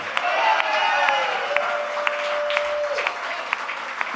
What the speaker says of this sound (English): Let's hear it for Don